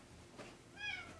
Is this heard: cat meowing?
yes